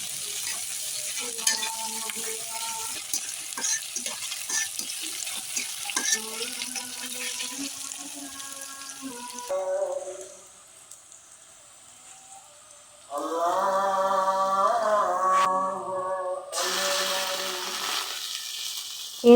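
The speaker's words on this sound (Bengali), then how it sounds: "প্রথমে কড়াইয়ে তেল গরম করে 1 চা চামচ জিরে, পেঁয়াজ, কাঁচামরিচ, তেজপাতা এগুলো দিয়ে ভালোভাবে লাল লাল করে ভাজতে হবে" Cumin, onion, green chili and bay leaf fry in hot oil in a wok, a hissing sizzle under background music, broken by a quieter stretch before the music returns.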